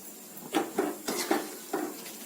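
Quiet clatter of a utensil against a pan while tempering dried red chillies and curry leaves, five or six short metallic knocks and scrapes at an uneven pace, with faint sizzling underneath.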